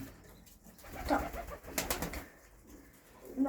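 Tippler pigeons coo in a soft, low, close burble, with a few rustles amid short pauses, no talking.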